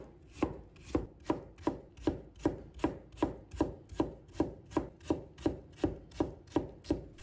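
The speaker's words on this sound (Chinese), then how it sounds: "再把它切成丝，用刀切的" A knife chops white radish into thin shreds on a board in a fast, very even rhythm of crisp thuds, about two strokes per second, close and clear with nothing else heard.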